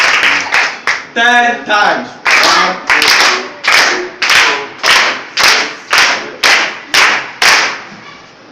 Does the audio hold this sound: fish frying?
no